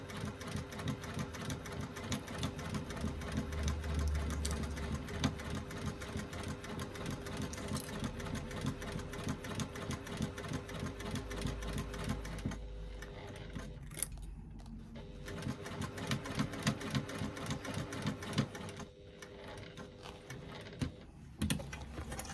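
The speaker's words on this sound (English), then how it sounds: "stitch all the way around the top edge using a 3/8 of an inch seam allowance to join the lining and the exterior together" A sewing machine runs in long steady bursts with fast rhythmic needle clatter as it stitches around the top edge of a fabric bag, joining lining and exterior, with brief pauses between runs; close, moderate level, no voices.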